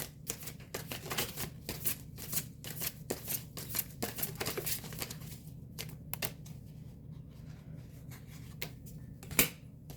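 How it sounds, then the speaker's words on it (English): A deck of tarot cards is shuffled up close in a quiet room, with quick bursts of riffling and snapping cards, brief pauses between them, and a sharper slap near the end. "One more shuffle."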